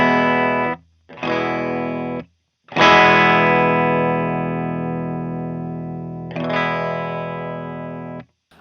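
Electric guitar played through the clean channel of an Orange amp, either a TH30 or a Rocker 30: loud, sustained chords that ring out and slowly decay, separated by brief silences, with no talking.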